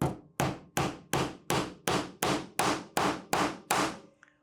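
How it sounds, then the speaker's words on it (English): Ten evenly spaced hammer blows drive a nail into a wooden treasure box, each sharp, clanging strike ringing out briefly before the next, close up with no talk. "I'm going to hammer in that first nail."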